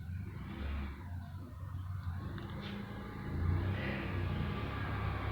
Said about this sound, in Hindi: एक और गाड़ी आ रहा है